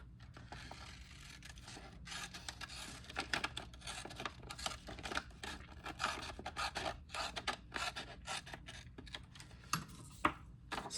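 Paper is cut by hand for an art journal page, giving quiet, irregular snips, rustles and scrapes close up, with no talking.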